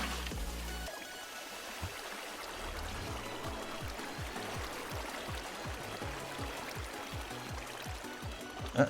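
Water placed and flowing in Minecraft survival version 1.21.8, a steady rushing trickle, close and moderately loud, running continuously with a rhythmic series of soft low thumps beneath it.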